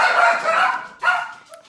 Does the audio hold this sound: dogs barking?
yes